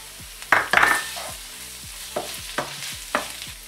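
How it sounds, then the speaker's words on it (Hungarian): Ham and egg mixture seasoned with salt, pepper and parsley frying in a pan, a low sizzle under a few sharp scraping stirs, two bursts early then three or four evenly spaced strokes, close and alone. "Amíg ez süldögél"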